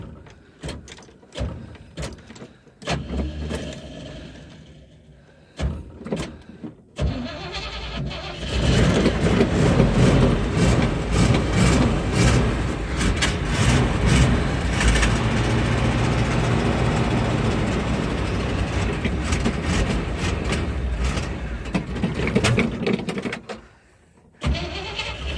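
A 1981 Chevy K10 parts truck cranks with a string of clicks and stuttering starter turns, then catches and runs with a loud, steady rough idle close by before cutting out near the end.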